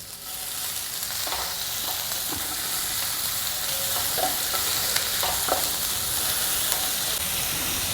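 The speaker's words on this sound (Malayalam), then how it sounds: "നമുക്ക് നമ്മളുടെ സ്ലൈസ് ചെയ്ത സവാള ഇട്ട് കൊടുക്കാം." Sliced onions, for a Kerala egg curry, fry in a pan with a steady, close hiss and sizzle, broken by a few soft stirring scrapes and clicks, and no voices.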